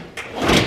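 A tool cart drawer slammed shut, one short hard thud followed by a brief rattling clatter, close and fairly loud.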